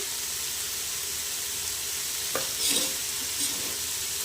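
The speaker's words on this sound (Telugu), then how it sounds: "బాగా వేగనివ్వాలి అరటి పువ్వు వేయించుకున్నాం కదండి" Banana flower frying in a pan with salt, a constant close sizzle and hiss, joined midway by a few scraping stirs and a brief burst of crackling.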